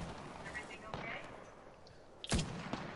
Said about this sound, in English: No, we're getting shot at.